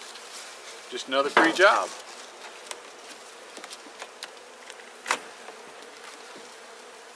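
Honeybees buzz around an open-air hive, a few close passes standing out amid faint scattered hum, with a man's brief speech at one point.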